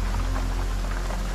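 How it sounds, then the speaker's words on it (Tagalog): Steady heavy rain pouring down, a dense even hiss of falling water at constant loudness with no voices or breaks. "Isang araw, biglang buhumos ang ulan."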